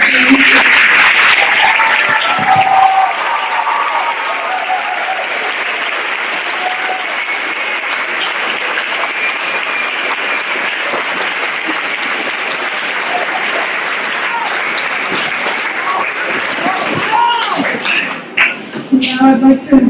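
An audience at a school naturalization ceremony applauds at length, with continuous, moderately loud clapping and a few voices mixed in, tapering off near the end.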